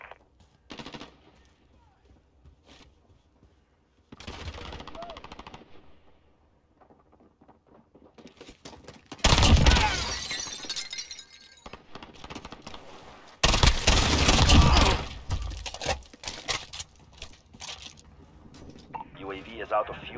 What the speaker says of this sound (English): I'm playing a gunfight right now